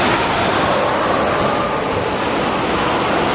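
A statue fountain at Universal Studios Orlando pours out water in a loud, continuous rushing splash, dense and unbroken throughout, with no voices over it.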